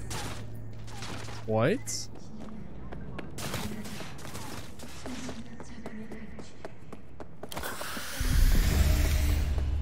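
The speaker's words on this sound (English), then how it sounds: "Who's shooting at me?" Gunfire erupts in the video game Cyberpunk 2077, scattered sharp shots and bursts popping through the scene, with someone speaking briefly and a louder rush of noise near the end.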